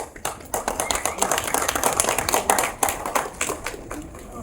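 Audience applause breaking out for the Marathi actor Amey Wagh at an event, a steady wash of clapping from a crowd that rises and falls in bursts across the whole stretch.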